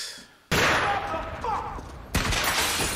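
Gunfire from a crime drama scene of The Wire, a dense broadband burst of shots and rattle filling most of the clip, with a sharp new loud onset near the end; voices talk over it.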